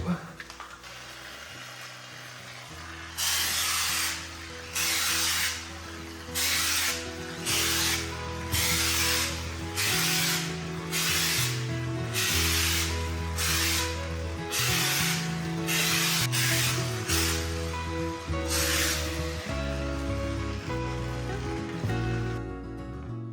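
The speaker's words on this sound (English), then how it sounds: "Here is what it's looking like after round two of the spray." Repeated bursts of spray texture hit a drywall patch, about a dozen hissing blasts in a steady rhythm, with a low mechanical hum continuing underneath.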